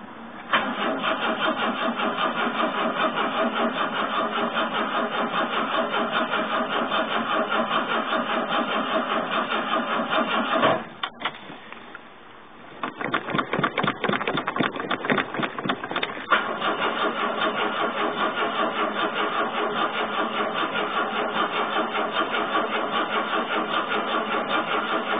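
A Holden Torana with an automatic gearbox, left sitting for three years, cranks and fires into a steady, loud running note that dips briefly mid-way with rapid cranking pulses before settling back into a continuous idle.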